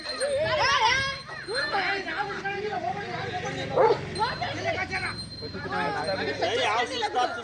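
A Rottweiler barks repeatedly in sharp bursts amid a commotion of several people talking and shouting close by.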